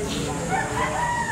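A mayahin stag rooster crows at the Lipa tiangge market in Batangas, its loud crow rising and wavering over constant crowd and market background noise.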